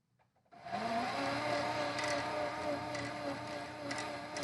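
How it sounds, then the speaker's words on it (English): A sewing machine winds thread onto a bobbin, its motor starting up abruptly and then running at a steady, close whirring hum. "You can see the bobbin is spinning, top thread is spinning."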